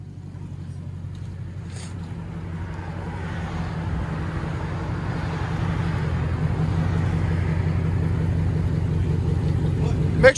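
A 2020 Dodge Charger Scat Pack with a 6.4L HEMI and straight-pipe dual exhaust gives off a deep low rumble that builds gradually in loudness, with faint voices around it.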